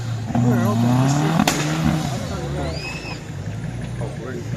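A car drives past at a rally event with engine tone rising and falling, loud and close, while people talk nearby over the noise.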